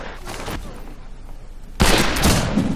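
Gunfire in the Western shooter game Fistful of Frags: a quiet stretch of low rumble and faint scattered noise, then a sudden loud, dense burst of shots from about halfway on that keeps going to the end.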